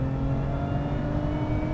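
A steady supercharged car engine drones with a sustained whine layered over a dense low rumble, close and loud without any break.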